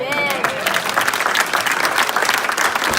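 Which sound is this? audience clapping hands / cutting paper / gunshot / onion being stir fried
audience clapping hands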